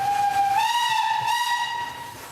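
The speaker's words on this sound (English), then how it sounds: "So Ruth and Peter are taking the train to London" A steam train whistle blows one long, steady shriek that rises slightly in pitch and holds for over two seconds, loud and close, with a hiss of steam beneath it.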